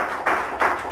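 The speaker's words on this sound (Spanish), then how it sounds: "Dale un aplauso bien fuerte a nuestro Cristo glorioso." Congregation in a church gives bursts of applause, with two brief surges of clapping over a short moment.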